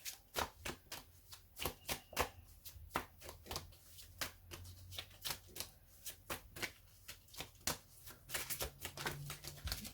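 Tarot cards are shuffled repeatedly, crisp riffling snaps and flicks in a steady, uneven rhythm, close and alone.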